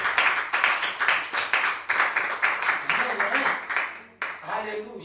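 Congregation at a church service clapping and cheering in a rapid, continuous burst of hand claps, loud and close, with shouted voices mixed in.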